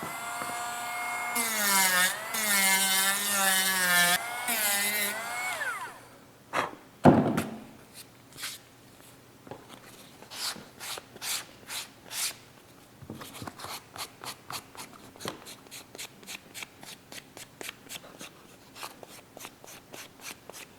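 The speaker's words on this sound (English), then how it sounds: "I'm gonna use a combination of a Dremel sanding bit and also a hand sander" A Dremel sanding bit whirs against leather edges in several warbling bursts. A hand sander follows with a long series of quiet, rhythmic rubbing strokes.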